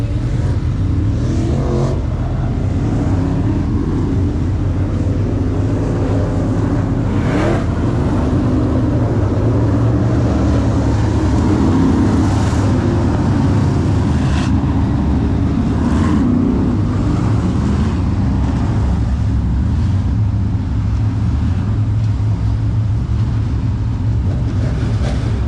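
Race cars tear around a dirt track at Farmer City, engines roaring continuously and loudly as they pass and accelerate, with no break in the dense engine noise.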